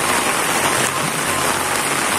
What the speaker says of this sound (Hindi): बहुत तेज बारिश आ चुकी है और ये देखिए कुछ इस प्रकार से बारिश हो रही है अभी।